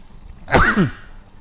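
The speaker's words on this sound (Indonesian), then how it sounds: "Mohon maaf ini agak batuk-batuk" A single harsh, throaty cough from a priest recovering from COVID, close and loud, with quiet room tone around it.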